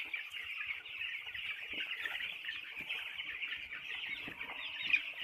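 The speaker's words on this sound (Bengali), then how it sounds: "যে মুরগিগুলা কত সুন্দর, কি সুন্দর দৌড়াদৌড়ি করতেছে।" Chickens cluck continuously in an open field, a steady, moderately loud flock chatter with scattered soft thumps and rustles beneath, no one speaking.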